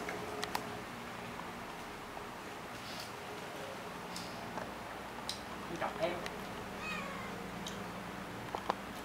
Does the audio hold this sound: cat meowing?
yes